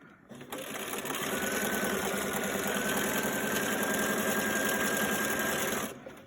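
Sewing machine stitching fabric around a corner for a Valentine's love note envelope, a close, loud, steady mechanical whir lasting about five seconds with no speech.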